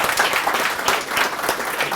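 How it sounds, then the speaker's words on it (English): An audience at a tech talk applauds a speaker, dense continuous clapping filling two seconds at a steady, fairly loud level. "Round of applause."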